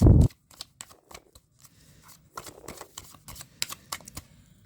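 Tarot cards are shuffled by hand, opening with one loud riffle burst and then a run of soft, irregular clicks and taps from the cards close by.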